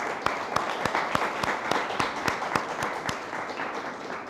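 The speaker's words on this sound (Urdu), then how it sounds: "آئیے خداوند کو زوردار تالیاں سے ویلکم کریں۔" A church congregation at a Sunday service claps in unison, a steady beat of about three or four claps per second over a broad, noisy room wash.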